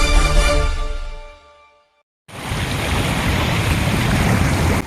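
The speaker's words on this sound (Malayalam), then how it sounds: "എടവനക്കാട് കടൽ തീരം കടൽക്ഷോഭത്തിന്റെ പിടിയിലായി." Rough sea waves crash on Edavanakkad beach during a sea surge after nonstop rain, a loud continuous surf roar with heavy wind buffeting, starting after a brief silence that follows a fading tonal sound.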